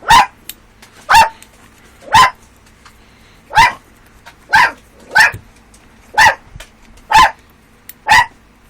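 Puppies give nine sharp, high-pitched barks at an even rhythm, about one per second, close by with quiet between them.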